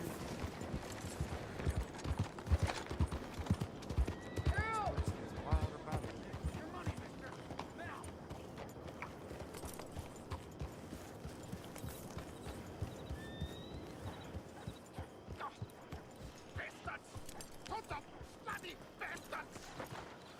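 Hooves clop steadily in a rhythmic gait, with a horse whinnying briefly near the start, under game music and occasional talking, in Red Dead Redemption 2.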